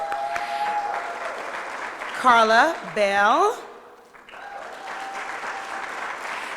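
Audience clapping honors board members at the Mack Bernard Neighborhood Center ribbon cutting, steady and fairly close, with a couple of rising whoops in the middle and a voice speaking over the applause.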